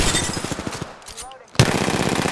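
RE-45 pistol fire in Apex Legends comes as a rapid burst of close shots, breaks off into a short quieter stretch, then resumes loud and dense, with game noise and some voice mixed in.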